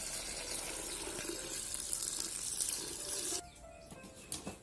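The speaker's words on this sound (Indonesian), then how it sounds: "Masukkan air," Water pours steadily from a tap or container into a chicken feed mix, a continuous broadband splashing that stops abruptly near the end, followed by a few faint knocks.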